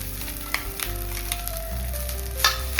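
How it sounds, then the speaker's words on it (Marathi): Eggs sizzling and frying in ghee in a pan, a steady close hiss with a few light scraping stirs and ticks, no voices. "अंडी घेतले, त्या तुपामध्ये मी छान ती परतून घेतली"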